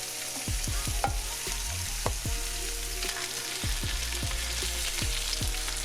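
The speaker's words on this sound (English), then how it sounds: "once we get a nice brown sear on these, we're gonna go ahead and give them a flippy flip like we're doing here." Oxtails searing in a hot pan, fat sizzling steadily while a utensil scrapes and clacks against the pan in a series of sharp knocks as the pieces are turned, close and continuous with no talking.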